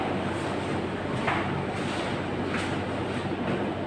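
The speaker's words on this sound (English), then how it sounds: "you can raise the main dump truck by pulling the PTO lever towards the rear wide until the RPM needle is higher than" An off-highway dump truck's engine drones as a PTO-driven hydraulic pump raises its body, a steady, loud rumble with no breaks and no voices.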